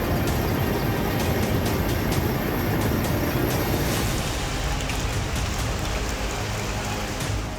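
Heavy, non-stop rain pours during floods in Maharashtra and Gujarat, a loud, dense, steady downpour hissing throughout with no voices.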